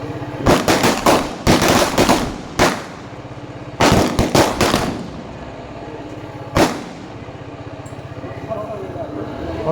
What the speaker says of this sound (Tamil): பட்டாசு வச்சுக்கிறாங்க.